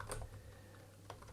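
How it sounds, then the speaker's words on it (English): Quiet keystrokes on a computer keyboard as a command is entered, a few soft clicks over about a second with low background hum. "So I'll type that in"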